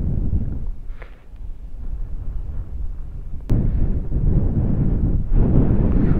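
Steady, loud wind buffeting the microphone on the road from General Tinio, Nueva Ecija to Dingalan, Aurora, a low roaring rumble that swells stronger near the end, with no voices.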